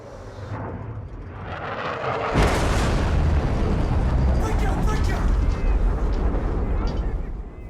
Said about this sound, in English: The big explosions, they are just big explosions.